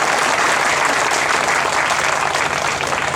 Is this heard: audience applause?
yes